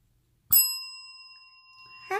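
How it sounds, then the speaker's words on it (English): A small hand bell rings once, bright and close, its clear metallic tone sustaining and slowly fading before a voice comes in at the end. "I'll ring my bell."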